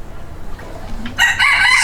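A dun mottled rooster crows loudly and close, one strong sustained call that bursts in after quiet farmyard background.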